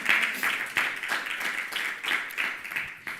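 A church congregation applauds in strong bursts of clapping, dense and sustained with rhythmic swells, heard without talk.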